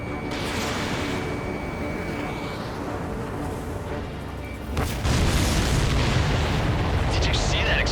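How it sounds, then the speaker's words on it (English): An explosion in the combat flight game Ace Combat 7, a loud boom that bursts in midway and swells the dense roar of jet and battle noise, with radio chatter underneath. "Did you see that explosion?"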